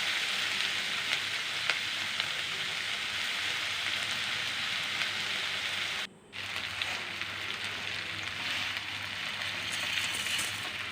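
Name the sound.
vegetables frying in oil with turmeric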